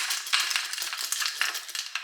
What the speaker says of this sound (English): It's my mama putting the keys in the door.